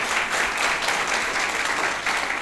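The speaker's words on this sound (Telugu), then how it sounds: "చప్పట్లు కొట్టండి ఒకసారి." A crowd at a felicitation ceremony in a newly built church in Achanta claps steadily, a dense, even wash of applause that holds at full strength for the whole moment without letup.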